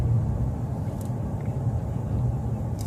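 A 2015 Nissan Frontier truck drives over bumpy roads, giving a steady low road rumble heard from inside the cab, with faint occasional knocks.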